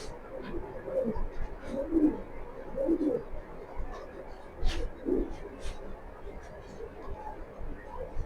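Racing pigeons, light mealy and black racers, give repeated soft, low coos at close range in a loose rhythm, with occasional faint chirps and a murmur of voices in the background.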